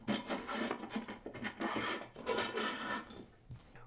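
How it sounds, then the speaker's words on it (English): Square bolts sliding along the aluminum C-channel on the back of a jointer fence, a continuous metallic rasping and scraping with several short pushes, close and fairly quiet with no talk. "slide those square bolts into the C-channel on the back of your aluminum"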